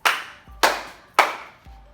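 Three sharp, loud hand claps spaced about half a second apart during a full-body conditioning workout, each with a quick ringing decay, heard alone without talk.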